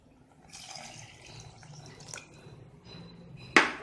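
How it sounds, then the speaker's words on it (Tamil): Water is poured into a pot of tamarind curry (puli kulambu) along with the tamarind extract. It makes a soft, quiet trickle and splash that ends in a brief, sharper splash. "ப்ளஸ் இதோட நமக்கு தேவையான தண்ணியும் ஆட் பண்ணிக்கலாம்."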